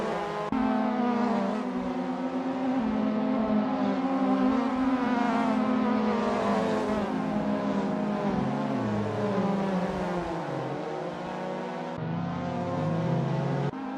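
MK1 Lotus Cortina race cars in the video game Assetto Corsa roaring down Park Straight at Cadwell Park: loud, sustained engine drone from several cars with rising and falling revs through gear changes, close and continuous.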